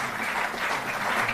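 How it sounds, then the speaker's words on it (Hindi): An audience at a Delhi sports event claps steadily and densely to welcome a young athlete, a sustained burst of applause with no voices over it. "जोरदार तालियों से आप अभिनंदन करें"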